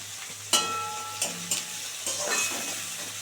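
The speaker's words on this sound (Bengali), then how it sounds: "একটু সুন্দর করে ভাজা হোক।" Prawns frying in a pan, a soft continuous sizzle broken by several sharp stirring scrapes and clatters at close range, with no voices.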